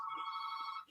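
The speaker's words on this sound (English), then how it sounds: "I hear a fax machine ringing." A telephone-style electronic ring from a fax machine trills steadily at a fixed pitch for nearly a second, fairly loud and close, with faint background murmur before it cuts off.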